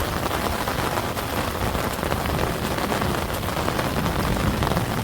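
Steady, dense rain pours down close by in the first heavy downpour of the monsoon month of Sawan, a continuous broadband hiss of drops on surfaces with no pauses and no voices.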